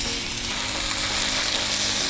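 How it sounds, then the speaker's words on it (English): A thick steak sizzles loudly on a hot Blackstone griddle, a dense continuous hiss and crackle right up close, with no talking. "just listen to that sizzle."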